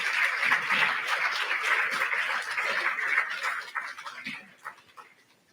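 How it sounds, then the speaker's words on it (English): Audience applause at a Sunshine Coast koala forum as speakers are called up to the stage, a broad steady clatter of clapping that thins and fades out over the last second or so. "And give them a big round of applause"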